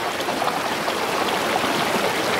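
River water rushes over stones in a steady, close, hissing babble, continuous and fairly loud with no voices.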